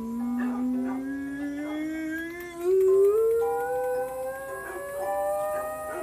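A dog in Minecraft howls in long, wavering tones that slide upward and fall back, mixed with whimpering whines, loud and close throughout with no talking.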